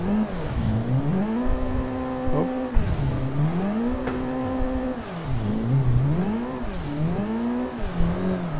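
A 333hp Nissan 180SX drift car spins donuts on a Tamada drift course, its engine revving up and down in repeated rising and falling waves, with tire scrubbing underneath throughout.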